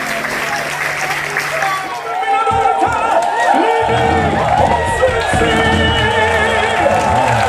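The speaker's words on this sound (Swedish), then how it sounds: "Ge er själva en varm applåd, vecka. Stor varm applåd." An audience on a party cruise to Helsinfors bursts into loud, sustained applause and cheering, a dense crowd clapping continuously beneath an announcer's voice.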